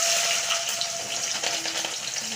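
Green chillies dropped into hot oil for lemon rice, giving a steady bright sizzle and crackle that holds at an even level, close and without talk.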